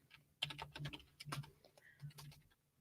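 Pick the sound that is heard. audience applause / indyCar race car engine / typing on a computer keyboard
typing on a computer keyboard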